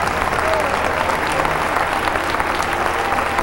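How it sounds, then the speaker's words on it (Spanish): A church congregation claps in sustained, dense applause that stays even and loud from start to finish, with no one speaking over it. "Dele un aplauso al Señor."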